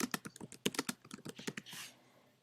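Fast, uneven keystrokes on a computer keyboard, about a dozen crisp clicks in quick succession, followed by a softer brushing sound, close and clear with no voices.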